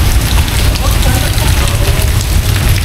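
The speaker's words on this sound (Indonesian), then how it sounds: "Hujan deras." Heavy rain pours down outdoors at the Lawang Sewu building in Semarang, a dense, loud, continuous hiss and patter that fills the scene, with faint voices partly buried in the downpour.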